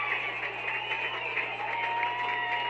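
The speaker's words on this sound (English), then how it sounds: "And you hear the crowd celebrating." A college football crowd at a West Virginia State versus University of Charleston game cheers and applauds after a touchdown, a sustained roar heard from a distance with a steady hum beneath it and no clear voices in front.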